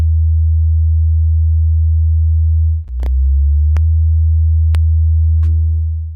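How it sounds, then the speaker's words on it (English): Loud, steady low hum of about 24 hertz from a speaker driving ferrofluid, a continuous deep drone with a brief dip partway through and a few faint clicks and chirps over it. "low sounds of about 24 hertz hits the resonating frequency and makes it freak out"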